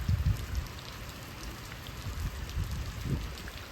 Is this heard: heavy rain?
yes